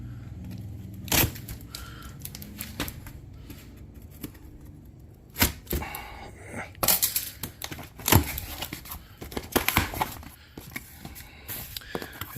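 Packaging for an under-seat subwoofer being cut open, with crinkling, crunching plastic and cardboard sounds and sharp snips at irregular intervals, loudest in bursts toward the end.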